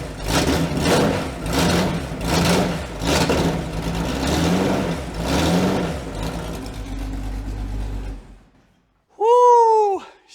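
A vehicle engine, just back from a fuel line repair, runs loud and steady with repeated revving swells, then cuts off abruptly; a short burst of whooping cheer follows after a pause.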